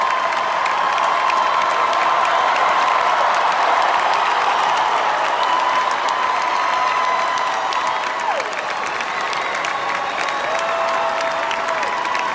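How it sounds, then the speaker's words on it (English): A large stadium or arena crowd at a graduation gives a standing ovation, with loud, sustained applause and cheering that fills the space evenly for the whole stretch and never lets up. "another standing ovation and a loud round of applause"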